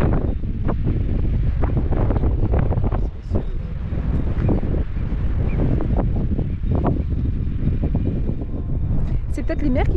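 Strong wind rising from the valley at the Col des Champs in the Alps buffets the microphone with constant rumbling gusts, loud and close, with faint indistinct sounds underneath.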